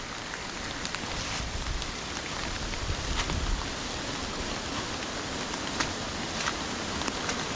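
Heavy rain droplets fall off a forest canopy near a waterfall in wet, swampy terrain, a steady hiss of rainfall with scattered sharper drips hitting surfaces close by.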